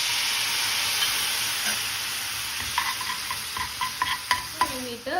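Water goes into masala frying in a pan, setting off a steady hiss of sizzling, followed by a run of sharp spoon scrapes and clinks as the mixture is stirred.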